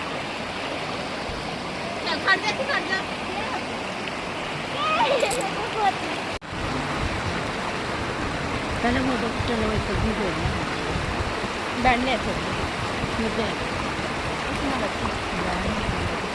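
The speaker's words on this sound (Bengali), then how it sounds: "স্রোত কিন্তু প্রচুর, বিশাল স্রোত" Strong current of the Ganges at Rishikesh, a steady broadband rushing of water close by, with faint voices and a few splashes over the continuous flow.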